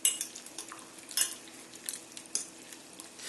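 Potatoes tossed with cilantro and hot sauce in a bowl make soft, irregular clinks and scrapes of a utensil against the dish, quiet and close with no talking.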